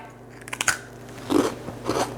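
A crisp bite into a thin, spiced Swedish gingerbread cookie dusted with powdered sugar gives two loud, close crunches with chewing in between, and no talking.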